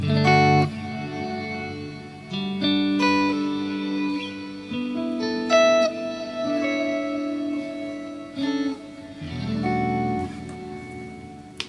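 Guitar tone through a Fractal multi-tap delay with diffusion time and diffusion mix turned up, sustained chords and notes smearing into dense repeats and washy tails, fairly loud and continuous with no talking.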